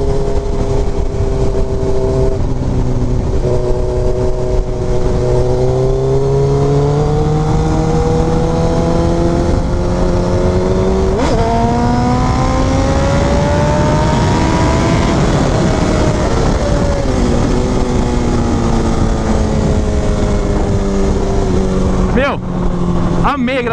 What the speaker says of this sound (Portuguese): Poxa, cara, eu queria acelerar mais com essa moto.